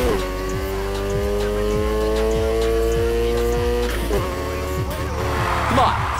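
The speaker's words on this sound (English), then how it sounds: "Come on, slam on the gas and steer. You're drifting." Car tires squealing steadily through a drift in Need for Speed Heat, loud and continuous over a droning engine with shifting pitch, and a voice speaking over it.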